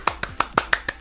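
Seven sharp hand claps in a quick, steady rhythm, close and distinct, with no talking over them.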